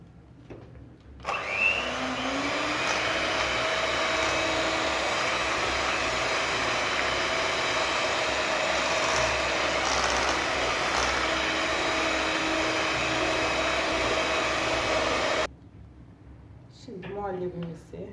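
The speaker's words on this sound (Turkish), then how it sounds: "Şimdi mikserle bir 5 dakika kadar çırpacağız." An electric mixer whips cream, whirring steadily for a long stretch at a constant high-pitched hum, then cuts off abruptly.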